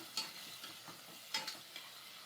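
Finely chopped tomatoes sautéed in a pan for a village-style spicy chicken rassa, heard as a faint, low sizzle with two or three soft stirring scrapes.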